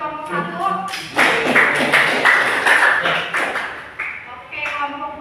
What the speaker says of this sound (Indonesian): Tepuk tangan semuanya buat kelompok